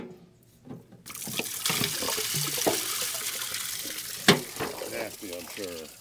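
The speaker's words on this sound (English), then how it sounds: "we're gonna take this filter off and open up that valve and get this draining" Water gushes out of a crop sprayer tank after its filter is removed and the drain valve opened. After a quiet second it becomes a steady, close rushing flow, and a voice is heard briefly near the end.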